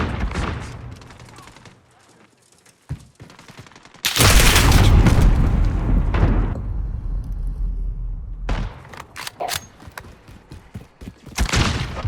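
A grenade blast in the video game Modern Warfare, a sudden loud boom that rolls into a long rumbling roar, then fades into scattered sharp gunfire cracks and a second burst near the end.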